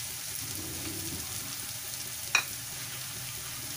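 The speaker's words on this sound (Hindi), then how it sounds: "अब हम इसमें ये गाजर जो कटे हुए हैं वो डाल लेते हैं।" Chopped carrots hit onions already frying in a pan, setting off a soft, steady sizzle with one brief clink partway through, quiet and close.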